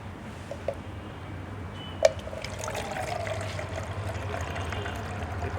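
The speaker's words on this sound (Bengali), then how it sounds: "এই পাত্রটির মধ্যে গরম জল দেওয়ার পর" Hot water trickles and pours into a neti pot, a faint, steady liquid stream close by with a small clink, and no talking.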